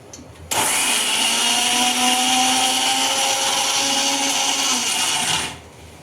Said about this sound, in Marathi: आपण हे डाळ वाटून घेऊया